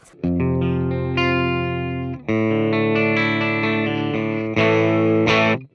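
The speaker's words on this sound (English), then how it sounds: "this is a Fender Twin Reverb. Again, I'm on the bridge pickup" Sustained electric guitar chords on the bridge pickup through a Fender Twin Reverb amp model on a Fender Mustang Micro Plus headphone amplifier ring out loud and bright with a clean tone, three strummed chords, each held until it fades.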